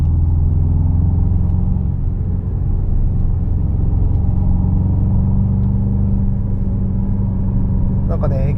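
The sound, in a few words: Aston Martin DBX707 SUV exhaust and engine while driving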